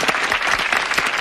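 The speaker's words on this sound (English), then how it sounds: "Let's give a big round of applause" A crowd applauding loudly, with dense, steady clapping and no voices or pauses.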